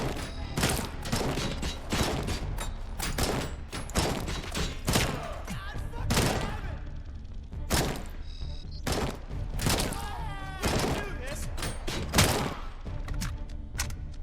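AK rifle fire in RoboCop: Unfinished Business, with loud sharp shots repeating in uneven bursts and single cracks throughout, close and dominant.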